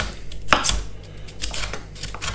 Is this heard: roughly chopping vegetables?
yes